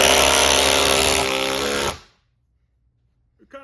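Milwaukee and Ridgid impact drivers with 5/16 sockets, running at speed 3, whir loudly together for about two seconds, then cut off abruptly into near silence with a faint thump at the end.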